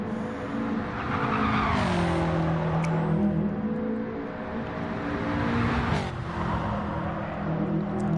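Race car tyres squeal and skid around a section of track in a PS4 racing game, a loud sustained screech with wavering pitch over the engine roar, with no talk.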